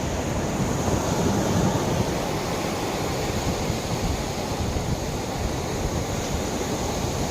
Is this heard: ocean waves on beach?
yes